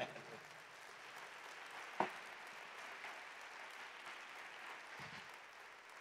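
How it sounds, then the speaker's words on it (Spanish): Congregation applause at a church retreat service, faint distant clapping held steady across the room, with a couple of brief louder knocks. "Un aplauso al Señor, hermano."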